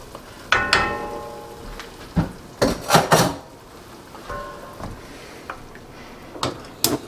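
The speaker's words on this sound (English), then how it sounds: "Let me give it a stir." Tomato soup with San Marzano tomatoes being stirred in a pot, with scattered metallic clinks and scrapes of a utensil against the pot in irregular bursts, some louder knocks among softer rattles.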